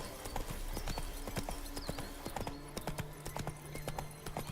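Roach, a horse in the video game Witcher 3, gallops with quick, close clip-clop hoofbeats in a steady rhythm, accompanied by short snorting and a faint whinny, while soft game music plays.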